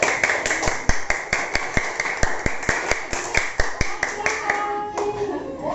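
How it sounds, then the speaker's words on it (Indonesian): A classroom group applauds a presenting group, with sharp, fairly sparse hand claps in an uneven rhythm that slow and thin out near the end, a voice briefly heard at the close. "kasih tepuk tangan dulu buat"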